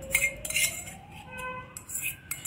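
A metal spoon stirs chutney in a bowl, giving several light clinks and scrapes in quick, uneven succession, close and fairly quiet.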